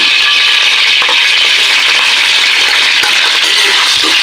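Garlic frying in cooking oil in a pan makes a loud, dense, continuous sizzle, close up, with a couple of faint clinks and no talk.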